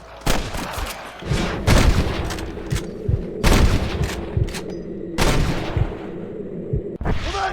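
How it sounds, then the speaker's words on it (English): Repeated bursts of gunfire crack in a Red Dead Redemption shootout, volleys of shots clustered in several waves, loud and close with some echoing booms. "I can hear more gunshots."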